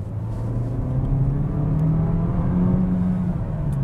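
A Citroen C5X with a 180 hp petrol engine accelerates through town. Its steady, loud drone from inside the cabin rises slowly in pitch and carries no speech over it.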